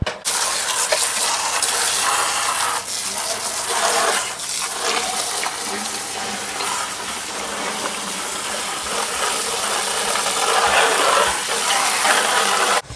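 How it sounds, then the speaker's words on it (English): Steady rushing water from a garden hose splashing and gushing continuously over metal scraps, loud and close, with faint clinking underneath. "over here we're at the hose right here and we're going to clean out all this metal."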